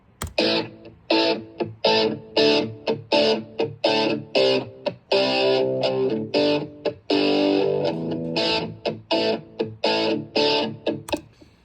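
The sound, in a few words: looping four-chord guitar rhythm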